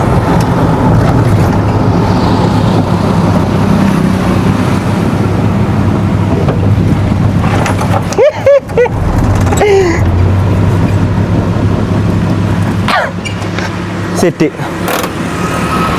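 Steady car engine and road rumble from a family's own vehicle out for a drive, continuous and fairly loud throughout, with wind buffeting the microphone and people talking over it.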